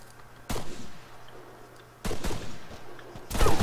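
Three sharp, loud gunshot bursts in the Arma 3 Wasteland military shooter, each a sudden crack with a brief tail, spaced about one and a half seconds apart.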